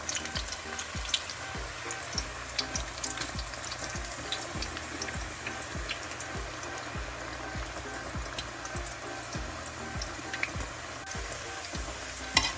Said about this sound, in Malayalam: കായ ഒട്ടി പിടിക്കാതിരിക്കാൻ ഇങ്ങനെ പയ്യെ ഒന്ന് ഇളക്കി കൊടുക്കണം